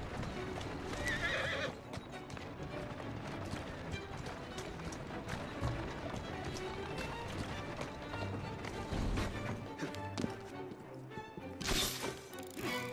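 A horse in the Assassin's Creed Syndicate video game gallops with rapid clip-clop hoofbeats, neighing loudly along the way, over game music and effects, with a bright burst of noise near the end.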